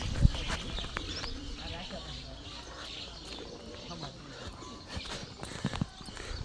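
Cows are led out of a village farmyard on foot. Soft, uneven hoof clops sound close but faint, with birds chirping and cooing in the background and a voice speaking quietly.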